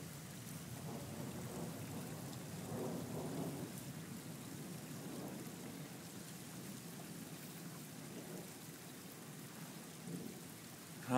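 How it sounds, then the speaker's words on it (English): Light rain patters steadily at the tail end of a summer storm in Brisbane, a soft even wash of drops with low distant rumbles, quiet and continuous with no voices. "Hardly raining at all now."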